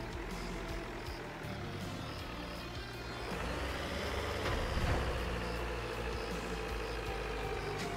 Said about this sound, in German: also ich bin das erste Mal Bagger fahren